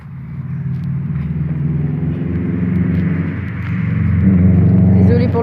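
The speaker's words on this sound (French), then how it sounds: "il y a une voiture qui vient de passer là" A car passes outdoors as a low rumble that swells and grows louder toward the end, with a person talking over it.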